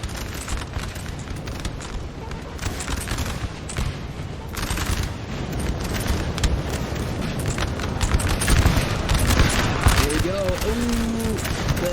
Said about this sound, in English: the volleys are telling. The French are dropping